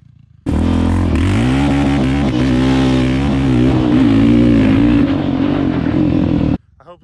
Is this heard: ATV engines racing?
yes